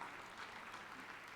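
Audience applause at a Hindi poetry recital (kavi sammelan), a brief steady patter of clapping, fairly faint and distant, with no voices over it.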